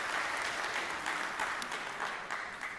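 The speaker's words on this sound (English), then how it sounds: "Maybe I should pause for applause more frequently." Audience applause fills a TechEd North America 2013 conference session hall: dense, steady clapping from many hands, loud and continuous for the whole stretch with small surges.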